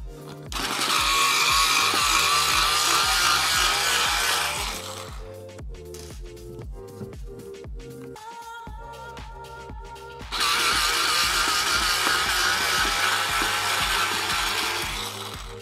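Electric screwdriver backing a screw out, with two long bursts of loud buzzing motor whine separated by a quieter stretch of clicks and handling sounds.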